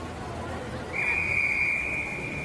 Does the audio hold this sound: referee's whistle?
yes